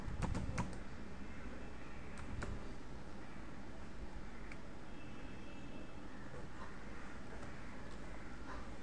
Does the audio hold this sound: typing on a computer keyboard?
yes